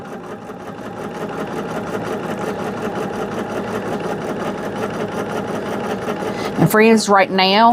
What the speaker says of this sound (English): my machine is going really slow